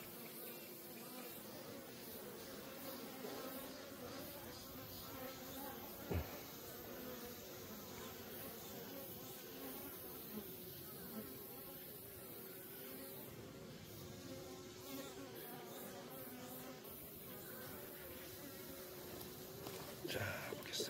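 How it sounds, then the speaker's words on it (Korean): A dense, steady drone of many bees swarms around a wild honeycomb nest, continuous and close, with occasional louder passes as individual insects fly near. "숯벌이 좀 들어오네요."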